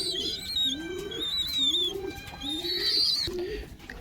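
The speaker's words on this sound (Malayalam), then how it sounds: "വയലി അടിച്ചെന്ന് പറഞ്ഞ പ്രാവ് ഇതാണ്" A pigeon in a home loft coos in a repeated rolling rhythm, about five low phrases close by, with faint chirping in the background.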